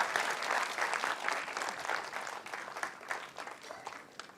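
An audience at a business felicitation event in India gives a round of applause, a dense stretch of clapping that is loud at first and gradually thins out over several seconds.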